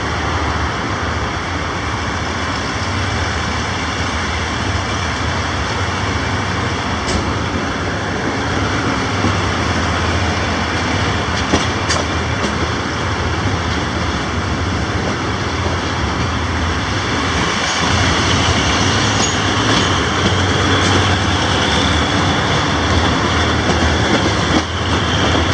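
A passenger train running from Chiang Mai to Bangkok rumbles steadily on the rails, with a continuous loud roar and faint clickety-clack throughout and no talking.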